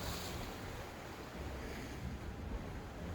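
Waves breaking on the limestone lakeshore at Cave Point County Park in Door County, Wisconsin, heard as a steady broad wash of surf mixed with wind noise, with no voices.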